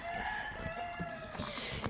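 Chickens clucking and crowing at feeding time, a rooster's drawn-out call over a busy background of clucks from a farm flock, faint and somewhat distant, no speech.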